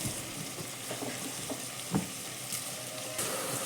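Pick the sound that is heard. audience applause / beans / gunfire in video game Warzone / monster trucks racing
beans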